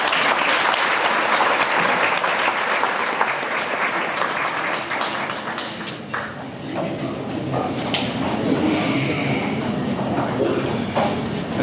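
A university lecture audience at UniVen in Limpopo applauds an ambassador after his speech, a dense, loud, sustained wash of clapping lasting the whole stretch, with voices mixed into the crowd noise.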